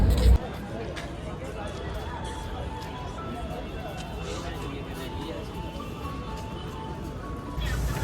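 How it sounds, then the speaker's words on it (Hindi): Evening street traffic outside a shopping mall in Jammu, a steady dense wash of vehicle noise and crowd murmur throughout, with voices talking over it and a louder burst at the start and end. "तो ये देखो कितना ट्रैफिक है इवनिंग में यहाँ से, ये चेक करो।"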